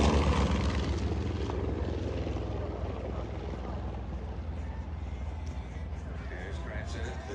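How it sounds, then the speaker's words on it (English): Small aerobatic propeller aircraft at the Warbirds Over Wanaka airshow, a steady loud engine drone that slowly fades slightly over several seconds, with people talking underneath. "This one is a very small aircraft."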